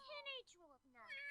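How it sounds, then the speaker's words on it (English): A cat in The Sims 4 meows twice in a close, plaintive cry, the calls rising and falling with a brief pause between them. "I hear the cat crying."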